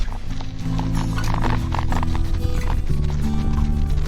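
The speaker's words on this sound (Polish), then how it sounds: "na polu kilka koni" Several horses in a field in the Suwałki countryside, with clip-clop hoof sounds and a possible whinny over a steady, dense background of tonal noise, fairly loud throughout without speech.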